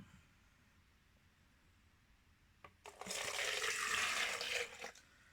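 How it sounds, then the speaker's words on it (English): Water poured into an electric kettle during a repair test: after a quiet stretch and a faint knock, a rushing splash of filling water starts, runs steadily for about two seconds, then stops, close and clear. "So let's put some water."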